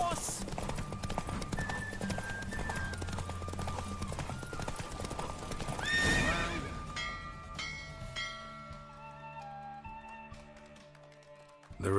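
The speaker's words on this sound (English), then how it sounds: "Don't spare the horse!" Rapid, steady hoofbeats of a galloping horse during a race in The Witcher 3: Wild Hunt, clopping continuously under game music, with a brief rising swell midway and no clear whinny.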